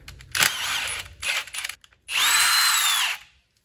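Bolts on a Dana 60 front axle from an F250 are spun out with a power tool and a 9/16 socket, giving close, loud bursts of whirring with a final sustained run of about a second.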